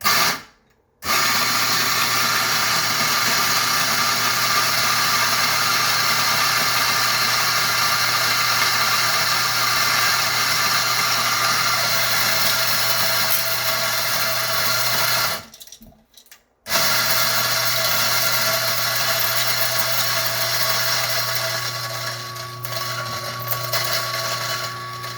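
A coffee grinder runs steadily, grinding espresso beans fed from its hopper, with a loud continuous motor whir broken by two brief stops.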